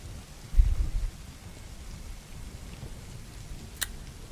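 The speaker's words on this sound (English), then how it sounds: "the rain continues to pour." Steady heavy rain pouring outdoors along a trail, a dense low rumbling wash with a brief louder gust near the start and a faint sharp tick near the end, no voices.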